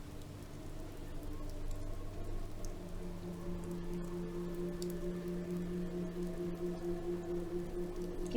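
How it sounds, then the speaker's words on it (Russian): Steady rain patters continuously with a low droning hum beneath it, faint and even throughout with no voices, in the video game Oxenfree. "неприятно, что дождь начался"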